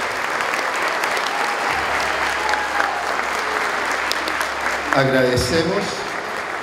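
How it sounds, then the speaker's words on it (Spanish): A full crowd claps warmly and steadily at a school graduation ceremony, the applause filling the room at an even level before a speaker's voice breaks in near the end. "aplauso."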